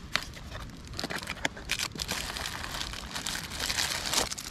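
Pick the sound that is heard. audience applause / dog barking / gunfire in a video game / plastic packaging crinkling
plastic packaging crinkling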